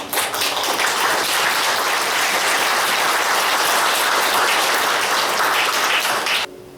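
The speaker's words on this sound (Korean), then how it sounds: "이분들을 위해서 박수해 주시면 좋겠습니다" Audience applause at the founding ceremony of AKUS MD, dense sustained clapping from a large crowd that holds steady and cuts off abruptly near the end.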